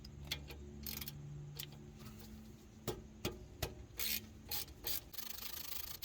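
Ratchet and wrench work on 8mm IWE bolts of a Ford F150 gives quiet scraping, clicking and short metallic taps in an irregular series, faint and close, with no talking.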